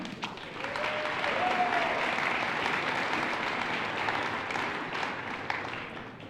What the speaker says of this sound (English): Give yourselves a big round of applause on this great Thursday morning